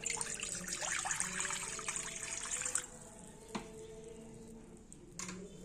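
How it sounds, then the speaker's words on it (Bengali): Water pours into a wok as the start of a mustard greens curry, a bright splashing trickle for about three seconds, then quieter hiss with a single clink and a brief return of pouring at the end. "সর্ষে শাকের ঝোলের জন্য প্রথমেই কড়াইতে জল দিয়ে দেব।"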